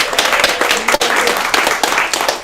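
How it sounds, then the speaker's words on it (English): Outdoor festival audience at the Moffatt-Ladd House applauding volunteers, a dense, loud burst of many hands clapping with a brief dip midway, then sustained clapping to the end, close and lively. "Big round of applause for the volunteers that make this happen."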